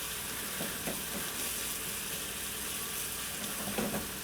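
Cauliflower rice frying gently in a pan over very low heat, a soft steady sizzle with a few faint stirring scrapes, alone without talk.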